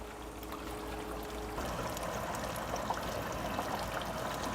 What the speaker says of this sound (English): nutrients goes from a sump pump up into here, straight up to the top